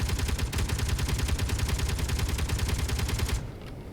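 Rapid automatic turret fire in a space-base building video game, a steady stream of loud close gunshots that stops abruptly near the end.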